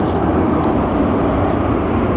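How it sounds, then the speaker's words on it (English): A fixed-wing airliner at Sky Harbor airport produces a steady, loud, broadband engine roar that holds at an even level throughout, with no talk over it. "There's our plane going to Memphis."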